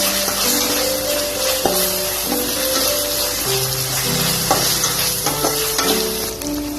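Onions fry with ginger garlic paste while being stirred in a pan, giving a continuous close sizzle broken by spatula scrapes and knocks, with faint tonal background sounds and no talk.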